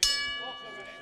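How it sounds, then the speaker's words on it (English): A boxing ring bell strikes once for the start of round one, a sharp, bright clang whose metallic ring decays over about a second amid faint arena noise. "The bell sounds signifying the beginning of round 1."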